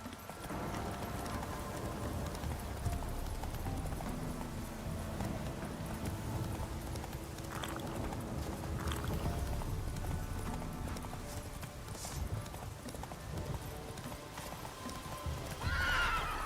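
A horse in the video game The Witcher 3 gallops with steady rhythmic hoofbeats and gives several loud neighs and whinnies, close and continuous throughout.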